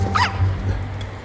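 Small dog, a pincher, giving a short high yip followed by a softer bark or whimper close by, heard over a low steady hum.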